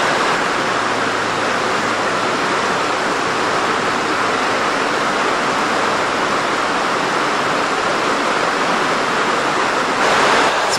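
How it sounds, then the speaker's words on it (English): Water cascades over stone beside a wooden covered bridge in Pennsylvania, producing a loud, steady rushing roar that holds constant the whole time with no other sounds. "Look at the Cascades."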